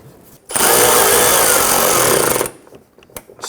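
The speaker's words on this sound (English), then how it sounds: "Let's install a screw on our liner up top here." A power drill drives a screw into the front bumper liner of a 1992-1996 Toyota Camry, one continuous loud whirring burst lasting about two seconds, close up, with quiet handling noises before and after.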